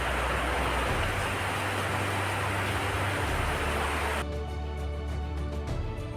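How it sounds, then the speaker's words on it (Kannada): Sudden rain pours down outside a home, a loud, dense, even hiss that fills the clip before the brighter part of the sound cuts away abruptly near the end, leaving a duller, steady wash. "ಎಕ್ದಮ್ನ ಮಳೆ ಬೀಳಕ್ಕೆ ಸ್ಟಾರ್ಟ್ ಆಯ್ತು."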